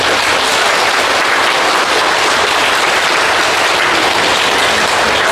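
A congregation at a Catholic Mass bursts into loud, sustained applause, a thick wash of many clapping hands that fills the room evenly without any speech.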